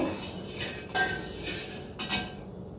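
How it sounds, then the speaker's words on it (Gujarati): Metal spoon stirring a ragi milkshake with honey in a glass, a few soft scraping swirls and light clinks close by, with two brief louder strokes. "ત્યારબાદ આ રીતે ચલાવી લઈશું."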